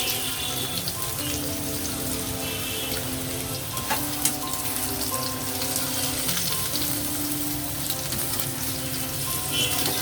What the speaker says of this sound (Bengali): বেশ কিছুক্ষণ ধরে আমি নেড়ে চেড়ে ভেজে নিয়েছি।